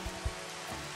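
Rain in the video game Final Fantasy XV, a steady soft hiss of falling rain with a couple of low thumps near the start.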